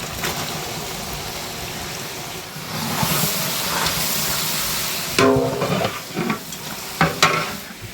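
Ten kilograms of mutton go into a large pot of frying tomato masala, a loud steady sizzle and stirring scrape that surges as the meat lands, then gives way to sharp clatters and splashes.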